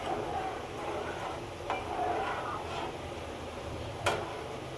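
Rice simmers in milk for kheer with a soft steady bubbling hiss, broken by a few light scrapes and taps of a spoon against the pot, close and even, with no voices.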